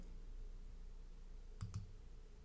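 Two quick, sharp clicks of a computer mouse close together while a business card design is edited online, close and crisp over a low steady hum, with no talk.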